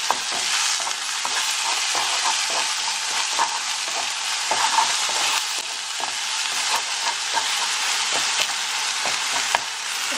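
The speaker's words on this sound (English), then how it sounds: "So now I'm going to add my vegan egg. And I'm going to scramble it." Vegan egg scrambled in a frying pan crackles with a constant close sizzle, punctuated by repeated spatula scrapes and taps against the pan.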